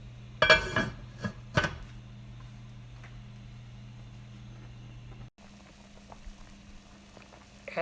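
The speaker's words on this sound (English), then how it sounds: "Now add the chicken and bring to a boil." Chicken with onions and water coming to a boil in a covered pot for chicken sinigang: a few sharp clattering knocks at first, then a soft, steady bubbling hum with no talking.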